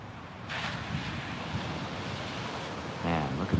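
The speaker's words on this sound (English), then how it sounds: "Even though the waves are so small, they are very clean." Small, clean ocean waves breaking on a Florida beach, a soft steady wash of surf mixed with wind noise on the microphone, with a brief human voice sound near the end.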